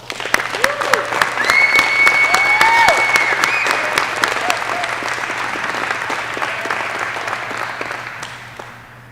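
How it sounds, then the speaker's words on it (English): A crowd applauds graduates receiving aviation wings at a U.S. Army graduation ceremony, a loud sustained burst of clapping that swells quickly and then gradually fades, with a few cheers rising over it. "please help me in congratulating these graduates receiving their wings and insignia today with another round of applause"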